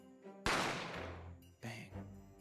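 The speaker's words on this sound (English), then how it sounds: "I didn't have time to think about where the sound of the gunshot came from." A single sharp, loud gunshot cracks and decays over about a second. A second, quieter burst of sound follows shortly after, with faint tones in between.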